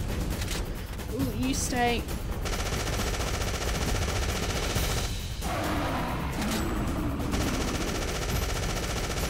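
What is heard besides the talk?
gunfire in video game Afterfall Insanity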